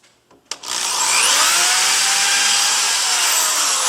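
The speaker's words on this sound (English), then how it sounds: "No, you're not screwing it, you're drilling the holes." After a couple of faint knocks, a power drill whirs up loudly and grinds steadily, drilling holes in wood for a loft bed, its high buzzing pitch holding close and continuous.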